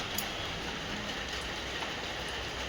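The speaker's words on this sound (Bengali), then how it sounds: "তারপর আবার সে কন্টিনিউয়াসলি বৃষ্টি চলেই যাচ্ছে" Continuous rain falls as a steady, even hiss, moderately faint and unbroken throughout, with no voices.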